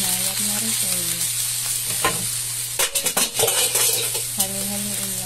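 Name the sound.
stirring cabbage and egg frying in a pan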